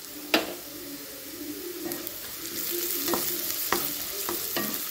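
Crushed ginger and garlic are stirred into onions softening in hot oil for carrot rice: a spoon scrapes the pan in sharp, spaced strokes over a continuous low sizzle, close and fairly quiet.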